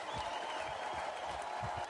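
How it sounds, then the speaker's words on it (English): A wrestling crowd in a show venue chants and claps for the wrestlers, a steady, dense roar of many voices with rhythmic clapping heard from within the audience. "crowd begins to chant for Dante while the other section chants for BBG"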